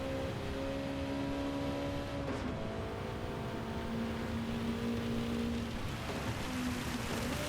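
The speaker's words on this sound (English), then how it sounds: "Just about to hit a torrential section of what feels and sounds like hail." Heavy, hail-like rain drumming steadily during a wet race in Gran Turismo 7, a dense continuous patter mixed with the steady tonal whine of the Honda NSX 92 engine shifting pitch as it drives on.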